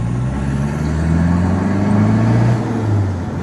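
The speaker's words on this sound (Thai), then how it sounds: "เดี๋ยวลองออกตัวหน่อยกันใหม่ ลองดูแค่สามเกียร์ก็พอนะครับ" A Toyota D4D diesel pickup fitted with a common-rail booster box pulls away from a stop, its engine note climbing steadily and loud, close by, with no talking.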